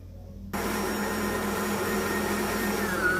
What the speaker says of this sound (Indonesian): kita mixer kembali hingga seluruh bahan tercampur merata